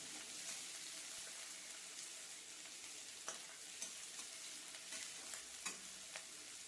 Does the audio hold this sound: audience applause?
no